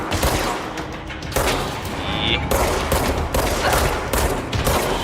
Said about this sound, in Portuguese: muito bom esse tiro na parede.